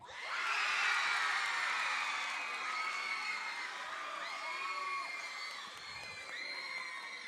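A contest audience voting by noise bursts into loud cheering, with whoops, yells and shrill shouts that stay strong throughout and ease slightly near the end.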